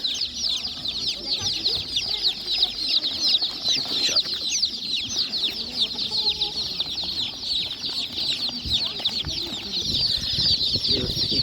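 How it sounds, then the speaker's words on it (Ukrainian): Day-old Czech Dominant chicks at an animal market peep constantly in a shrill, overlapping chorus, loud and close, with faint voices and market bustle underneath. "такі добові курчата по 25 гривень"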